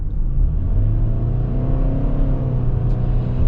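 A 2021 Toyota Sienna XSE minivan with a CVT accelerating, a loud, steady, smooth engine drone and road rumble heard from inside the cabin, continuous and without gear shifts.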